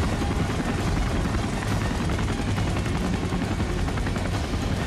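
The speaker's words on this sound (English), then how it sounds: "the CH-47D Chinook, escorted by two AH-64D Apache attack helicopters, two medium lift AS-332 Super Puma, and a maritime warrior," Military helicopters flying over at a Singapore National Day parade, including a CH-47D Chinook, AH-64D Apaches, AS-332 Super Pumas and an S-70B Seahawk: loud, dense rotor thudding and engine roar, steady and close throughout.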